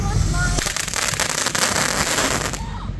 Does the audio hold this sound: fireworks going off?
yes